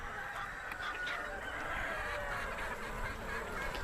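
Chickens and other poultry on an organic farm, a steady chorus of clucks and calls close by, with no voices.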